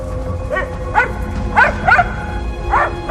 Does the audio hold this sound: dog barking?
yes